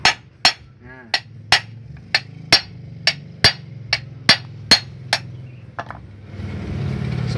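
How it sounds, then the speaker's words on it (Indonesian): A hammer taps a rivet nail with about a dozen sharp, evenly spaced metallic strikes, close and loud. A steady broadband whir takes over near the end. "lalu kemudian ketok pakai palu seperti ini"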